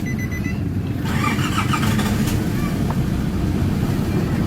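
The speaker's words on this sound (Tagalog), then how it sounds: "check natin, start natin makina" A Nissan Navara diesel engine with low power and fuel knocking cranks briefly, then catches and settles into a steady, close idle rumble.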